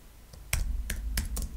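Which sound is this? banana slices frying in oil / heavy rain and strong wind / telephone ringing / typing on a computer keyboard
typing on a computer keyboard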